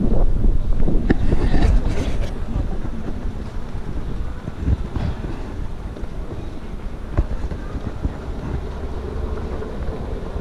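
Underground commuter train running through the Leipzig city tunnel beneath the market square, a steady broadband rumble with wind-like rushing, louder at the start and then holding a continuous roar throughout, with no voices.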